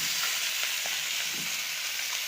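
Fish pieces and fish heads sizzle in hot oil with a steady, close, fairly loud frying hiss throughout, joined by a few small pops and stirring clinks, with no talking.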